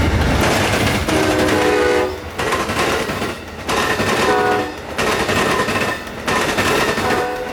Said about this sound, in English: That train that you just saw was Amtrak 92